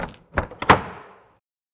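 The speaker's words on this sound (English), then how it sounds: "let's go ahead and shut the door" An EC145 (BK117 C-2) helicopter cabin door is pulled shut: a light rattle, then two solid thunks close together, the second loudest, with a short resonant ring fading behind them.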